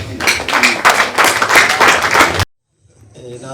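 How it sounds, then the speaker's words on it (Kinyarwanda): Wedding guests clap together in a loud, dense burst of applause lasting a couple of seconds, which cuts off abruptly into near silence with faint background murmur. "komereza aho ngaho bakomera amashyi rwose"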